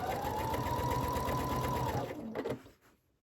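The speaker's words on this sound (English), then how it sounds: "So I'm just gonna sew a little here, come up a few stitches, sew another row." A sewing machine stitches rows across a quilt-as-you-go panel for a mug rug or pouch, a steady close mechanical whir with a fast regular needle rhythm for about two seconds, then slowing to a few last clunks and stopping.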